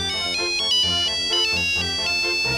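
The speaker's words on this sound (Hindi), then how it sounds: "ये फोन मेरा पीछा नहीं छोड़ेगा" A mobile phone ringtone plays loud and close, a bright repeating electronic melody over a beat, with no talk over it.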